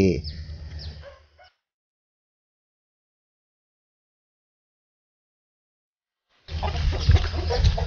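Chicks and chickens cluck and peep at a Thai fighting-rooster farm, a short burst of birds under a voice, then a long silence before more bird sounds resume with people talking.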